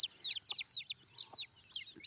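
Young chicks caught on a sticky plant give faint, repeated high peeps in quick, irregular bursts, with short pauses between the calls.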